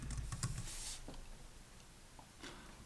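Soft typing on a computer keyboard, a few faint key clicks in short bursts in a quiet room.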